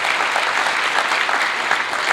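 Loud, sustained applause from a large audience at a Matric awards ceremony keynote, a thick continuous wash of clapping that stays even throughout with no voices on top.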